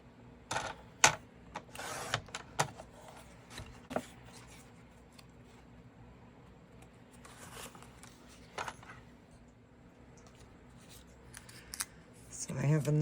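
Scissors snipping through cardstock for a mini album, a series of sharp close cuts and clicks scattered across the stretch, with someone talking quietly between them.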